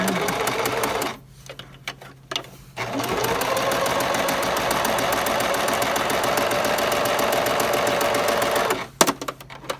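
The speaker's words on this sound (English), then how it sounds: "Start with my leader fabric. And sew right on it." A Gemini Stitch sewing machine runs through fabric, starting on a leader strip, with a steady close mechanical whir broken by two short pauses, then stopping near the end.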